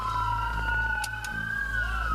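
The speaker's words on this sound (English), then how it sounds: "Turn the sirens off." A police siren wails steadily during a roadside emergency response after a crash, loud and close, its tone holding and bending slowly with engine rumble underneath and no talking.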